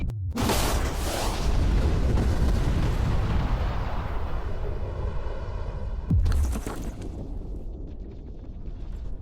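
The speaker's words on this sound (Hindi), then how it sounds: "लेकिन ये एक असली धमाका है" A huge real blast of bombs set off around a safe: a sudden deep roar that swells and rumbles for several seconds, then a second heavy boom near the end before fading into a quieter tail.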